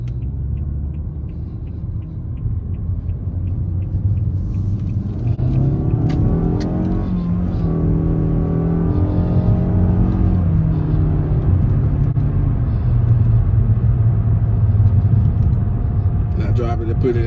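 A 2020 Nissan Altima SR with a CVT transmission drives in manual sport mode, its engine rumbling steadily and rising in pitch as it revs up, then settling into a cruise, with someone talking over it.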